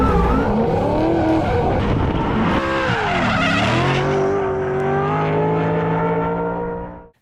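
A drift car driven hard around a track carries a loud, continuous engine roar with rising and falling revs and gear-change dips, layered with sustained tire squeal and skidding close to the microphone.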